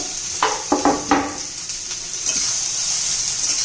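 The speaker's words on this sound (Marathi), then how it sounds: "त्यात आपण आता दोडक्याची फोडी घालून घेऊया ते आपण चांगले तेलात फ्राय करून घ्यायच्या" Ridge gourd pieces frying in oil, a steady high hiss of sizzling with a few close stirring scrapes early on, no talking.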